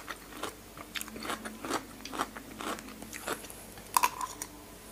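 Close, repeated soft bites and chewing on a food that may have lost its crispness, a series of small crunchy clicks with one sharper snap near the end, with no talking.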